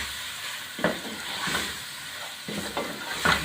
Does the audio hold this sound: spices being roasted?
yes